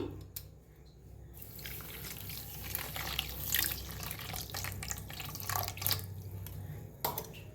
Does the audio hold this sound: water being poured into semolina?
yes